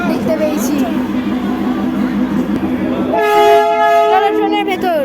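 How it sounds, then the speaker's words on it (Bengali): A train on a North Bengal line, its rumble heard close and steady, then a long loud horn blast with a slight pitch bend takes over partway through. "এই দেখুন ট্রেনটা।"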